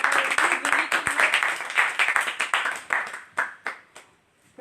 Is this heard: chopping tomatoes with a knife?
no